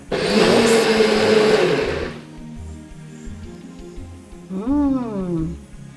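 A blender blitzes baba ghanoush with full-cream yogurt and olive oil, a loud whirring grind for about two seconds that stops abruptly, followed by a quieter tail where a voice speaks.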